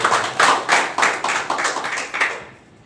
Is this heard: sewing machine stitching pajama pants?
no